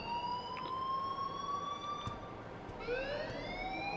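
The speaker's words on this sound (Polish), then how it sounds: "Leave Miss Caulfield alone and please turn off that alarm since that's your job." An alarm siren in the video game Life Is Strange wails steadily with a smooth rising tone, then drops and climbs again near the end, sounding moderately loud over a dense background hiss with no talk.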